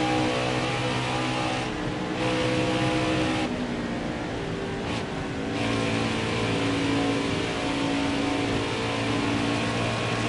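NASCAR Craftsman Truck Series race trucks at Las Vegas Motor Speedway, a continuous loud engine roar with sustained droning pitches shifting as trucks rev and pass, steady throughout without audible talk.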